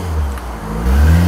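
A car pulls away with a steady low engine rumble that swells toward the end, heard close and alone with no voices.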